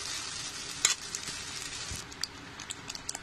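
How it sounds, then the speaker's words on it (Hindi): Masala is stir-fried in a pan for paneer lababdar, a soft steady sizzle with light crackles and a few scraping stirs, fairly quiet and close, with no talking. "इसको भूनेंगे मसाला को।"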